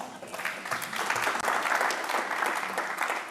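An audience at a keynote session of a 2018 symposium applauds a volunteer coming up on stage, a full, sustained round of clapping that swells after a brief dip and continues steadily.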